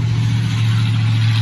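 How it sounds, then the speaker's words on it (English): Steady road traffic rumbles outside a house, a continuous engine drone with broadband hiss throughout, no talk and no pauses. "there is a good amount of road noise"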